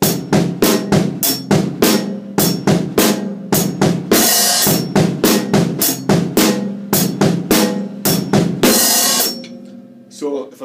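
A steady drum groove plays a punchy kick-and-snare pattern with crisp cymbal hits, driving along for several bars before trailing off at the end.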